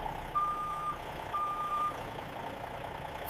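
A truck backs up at a factory loading dock, its reversing alarm giving two steady high beeps about a second apart over a low engine rumble and background hum.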